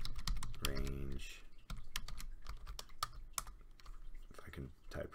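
Rapid keystrokes on a computer keyboard clatter in quick irregular bursts while Python code is entered, close and clear, with a voice speaking briefly at one point.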